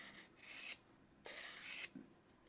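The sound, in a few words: sharpening scissors blade on 240 grit abrasive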